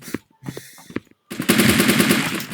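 Rapid automatic gunfire rattles loud and close in the online block-style shooter game Blockpost, a steady burst in the second half after a few scattered single shots and clicks.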